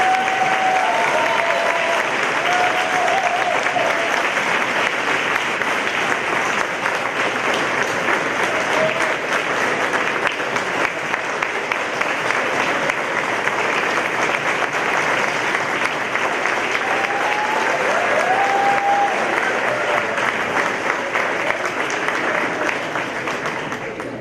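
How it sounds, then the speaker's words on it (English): Sustained applause from an audience at a school board meeting honoring retirees, a dense, even patter of many hands clapping steadily for over twenty seconds with no speech. "one big round of applause for everyone"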